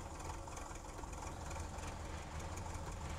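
A KrAZ truck's engine in SnowRunner rumbles low and steady as it starts and idles, a faint, continuous mechanical drone without voices.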